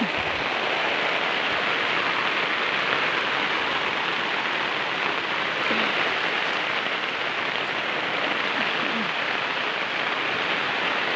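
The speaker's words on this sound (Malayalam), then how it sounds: "ഇന്നലെ പൊരി വെയിലായിരുന്നു ഇന്ന് നല്ല മഴയുണ്ട്" Steady, heavy rain pours down continuously for the whole stretch, a dense even hiss of drops striking surfaces with no voices.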